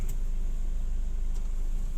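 A used Nissan Grand Livina automatic car's engine hums steadily at low level, a smooth continuous drone with no jolts or knocks as the vehicle rolls off after the brake is released.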